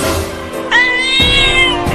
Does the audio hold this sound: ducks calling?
no